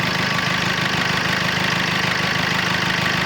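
A Maruti Brezza ZDi+ diesel car idling, its engine giving a steady, even rumble with a fine knocking pulse and no change in pace across the few seconds.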